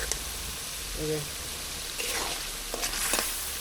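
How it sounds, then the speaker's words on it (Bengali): Prawns fry in bubbling oil in a pan, a dense, continuous sizzle and crackle with a few stirring scrapes, and a voice briefly surfaces over it. "আমার চিংড়া মাছ কষানো হয়ে গেছে ভালো করে দেখেন তেল ফুটে গেছে সব পাশ দিয়ে"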